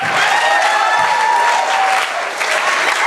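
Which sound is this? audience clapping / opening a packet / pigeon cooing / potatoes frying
audience clapping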